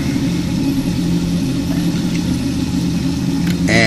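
A Phosban Reactor 150 pump for aquarium GFO media running steadily loud and close, a constant motor hum and water rush that rises slightly in pitch near the end as it speeds up.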